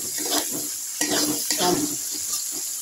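Chopped onion frying in fish oil with black cumin seeds, a steady hiss and sizzle in a pan with intermittent scraping and stirring clatter close by, and no voices.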